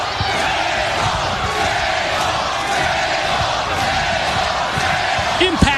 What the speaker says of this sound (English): Impact Zone crowd roars their approval.